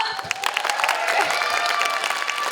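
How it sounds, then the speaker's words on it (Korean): An audience claps and cheers at a Lotte Giants baseball fan meeting, a dense, lively burst of applause with scattered crowd voices rising over it. "박수 한번 주세요"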